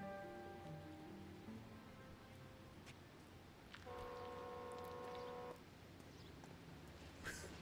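Vehicle horn sounding in the L.A. Noire video game, a sustained tonal blast of about a second and a half in the middle, heard over a low steady background of traffic-like noise.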